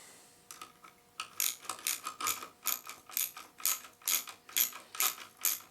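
A ratchet wrench clicks rapidly in a long series of short bursts, close and distinct against a quiet background, as bolts on a Garmin GPS mount bracket on a BMW R1200 GSA motorcycle crossbar are tightened.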